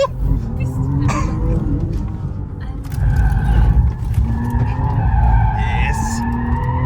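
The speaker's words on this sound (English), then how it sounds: "We only care about one thing, and that is just how good this car can go sideways." A new Audi RS5 slides sideways in second gear, tires skidding and squealing in long wavering screeches over a loud engine roar, with people talking excitedly in the background.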